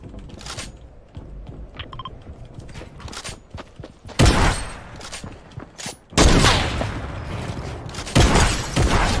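Fortnite gunfire during an Arena match, several sharp loud bursts of shots amid softer clicks and movement noises, the heaviest volleys coming in the second half.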